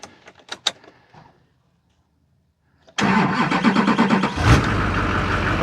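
Car engine cranked with an Autogen 4500 amp portable jumpstarter after priming the fuel pump: faint clicks and rattles, a second of silence, then the engine catches and settles into a loud steady idle.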